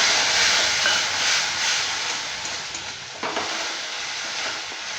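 Ground cumin, coriander and chili powder sizzle in hot oil in a pan for a home-style Bengali fish curry, a steady bright frying hiss with soft stirring scrapes and one sharper clatter midway, close and without talk.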